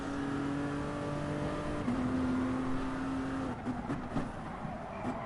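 Race cars in an endurance racing video game at Laguna Seca roar past on track, a sustained engine drone with steady pitch shifting downward, then rougher revving and gear changes near the end.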